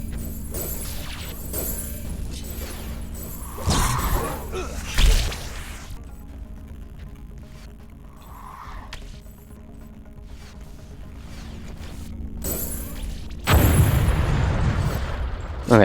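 In the Eternal Heroes video game, a tower is destroyed with sharp booming crashes and whooshing bursts that recur over a quieter battle ambience, the loudest blasts near the start and toward the end.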